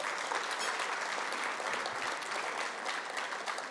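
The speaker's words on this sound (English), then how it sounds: "Let's give Jim a round of applause." A luncheon audience at an annual meeting and award ceremony applauds an honoree, a steady wash of many hands clapping at moderate distance, sustained evenly throughout with no voices standing out.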